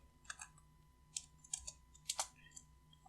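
Scattered clicks of computer keyboard keys, a handful of light taps in small clusters as a key combination is pressed, quiet and close over a faint steady hum.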